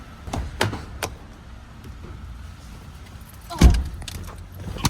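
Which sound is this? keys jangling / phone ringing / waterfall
keys jangling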